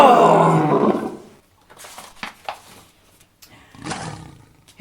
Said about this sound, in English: This huge toothsome creature made sure everyone saw how important he was by how loud he could roar.